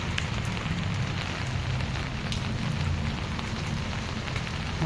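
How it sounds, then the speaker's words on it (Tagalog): Heavy rain pours steadily outdoors in the Philippines, a dense, continuous hiss of drops drumming on surfaces with a deep low rumble underneath, loud and unbroken with no voices. "Malakas yung ulan dito"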